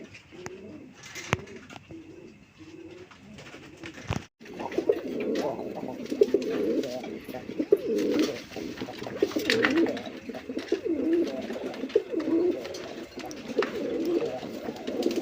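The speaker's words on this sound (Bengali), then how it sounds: "বন্ধুরা এখানে একজোড়া রাজগোল্লা কবুতর আছে, এটা হচ্ছে নটটা, দেখছেন কি ডাক" A male Rajgolla pigeon coos close by, giving a steady run of soft, throaty, repeated coos from a few seconds in, with faint background noise before it.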